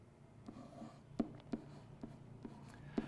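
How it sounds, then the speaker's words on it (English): Pen strokes from someone writing answers by hand on paper during a fractions, decimals and percentages lesson, a few short scratchy taps and scrapes spaced irregularly over a quiet room hum. "so I can write these straight in"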